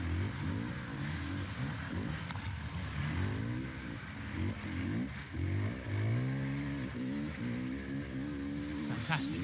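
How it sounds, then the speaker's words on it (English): An engine revs up and down repeatedly as a wheel spins without grip on a motorsport hill course in Barbados, climbing in pitch as it strains, steady and close, while a commentator talks over it. "You can hear how little grip there is when you hear the revs going up like that."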